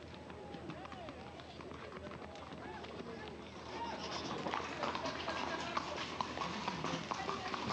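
Many horses' hooves clatter and clop at the Las Luminarias ceremony in Spain, held on the eve of St. Anthony's Day, a dense, continuous rush of hoofbeats that grows louder midway, with crowd noise and voices mixed in.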